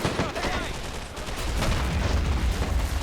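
Grenade blasts and scattered gunfire from the video game Men of War: Assault Squad 2 at the Le Shima airfield, a busy wash of bangs and rumbling over continuous battle noise, with talk alongside.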